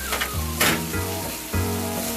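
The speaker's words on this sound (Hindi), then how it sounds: "तो वही मसाला अब मैंने इसमें डाल के बस मिक्स कर देना है" Masala sizzles and spits in a hot pan while being stirred and mixed, with bursts of scraping and crackle over a steady hiss, close and fairly loud throughout.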